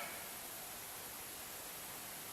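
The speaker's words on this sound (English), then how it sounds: "a hissing sound, which I'm pretty sure is the steam from the water in the radiator being released" A steady, broadband hiss runs unbroken throughout, fairly quiet and even, as steam escapes under pressure from an overheated car radiator.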